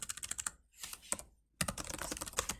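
Typing on a computer keyboard, close and clear: rapid clusters of crisp key clicks broken by a brief pause, then a denser run of keystrokes, with no voices.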